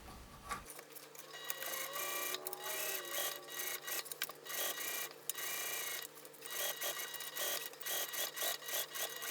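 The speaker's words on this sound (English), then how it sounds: "Okay, I finished sewing the binding." A sewing machine stitches binding onto a bag, a dense, rasping mechanical whir running nearly continuously and close up, with small dips and restarts, and no one talking.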